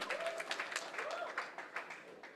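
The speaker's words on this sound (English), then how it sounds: "Ladies and gentlemen, give a huge round of applause for Mayur Narayan" Applause at a college youth festival after a dance performance, fairly faint and distant, with a brief tonal vocal sound mixed into the clapping.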